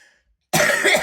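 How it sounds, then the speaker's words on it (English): A single harsh cough bursts out loudly and close after a moment of near silence. "Excuse my cough."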